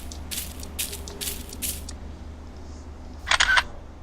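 A camera shutter fires rapidly in the DreadOut horror game as selfies are taken, four quick crisp clicks in a row, then a pause and one more louder burst near the end.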